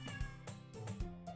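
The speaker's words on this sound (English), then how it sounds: "That is my cat, guys." A pet cat meows repeatedly at close range, three or four short, nasal calls in quick succession, with no voices over them.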